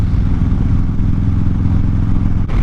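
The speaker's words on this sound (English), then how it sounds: "So riding on the freeway right now, 80 miles an hour, I'm getting a decent amount of wind at my chest and my head" A custom 2019 Harley-Davidson Fat Bob cruising on a freeway at 80 mph, giving a loud, steady low engine rumble mixed with heavy wind buffeting, recorded close from the rider's position with no speech.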